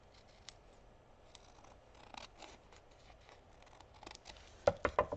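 Scissors trimming paper for a craft project, with soft intermittent snips that grow sharper and louder near the end as a quick run of close cuts, in a quiet room with no talking.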